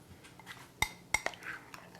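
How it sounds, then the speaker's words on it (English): A utensil stirring chocolate ganache in a bowl gives a few sharp metallic clinks against the bowl's side, close and fairly quiet, spaced irregularly over a soft background. "Let me quickly stir my ganache."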